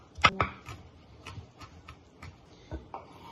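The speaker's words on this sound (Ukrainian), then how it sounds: "за допомогою ножа його гарно притискаємо і отак січемо" Garlic pressed and chopped with a knife on a board: two sharp close taps, then a string of lighter irregular cuts, quiet and without talk.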